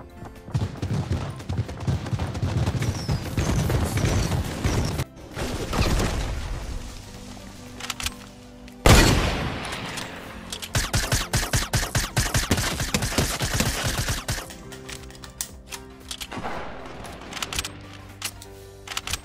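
Gunfire in the video game Fortnite Battle Royale, with dense bursts of rapid shots rattling on and off for most of the stretch, broken by a short lull and a sharp burst partway through, over a busy game soundscape.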